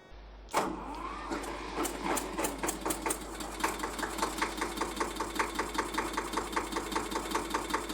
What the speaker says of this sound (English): This is a cute little tractor, in a sense. I'll just quickly fire it up and show you what it sounds like.